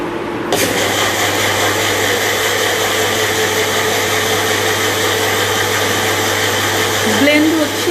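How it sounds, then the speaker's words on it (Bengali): A blender whips up cold coffee with milk, a loud steady whirring motor that kicks in about half a second in and runs without pause nearly to the end. "আমি ব্লেন্ড করে দিচ্ছি।"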